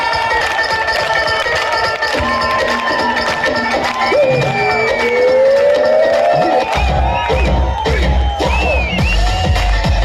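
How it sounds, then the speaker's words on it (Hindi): A crowd at a promotion function loudly claps and cheers to welcome a speaker, with shouts and whoops throughout, and deep thumping music joins in during the last few seconds. "तो जोरदार तालियों से"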